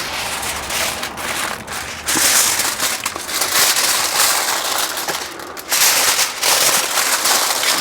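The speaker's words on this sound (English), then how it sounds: "So we very carefully handle this now, so we can get another layer of foil on it." Aluminium foil is wrapped around a smoked pork shoulder for Texas-style pulled pork, making loud, close crinkling and crumpling in bursts with brief pauses between them.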